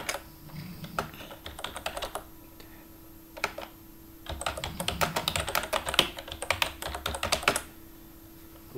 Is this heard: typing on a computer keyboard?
yes